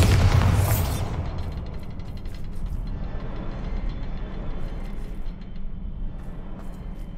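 A Bombarda spell goes off in Hogwarts Legacy as one loud boom that fades over about a second, followed by a low mechanical rumble with faint clicks and creaks.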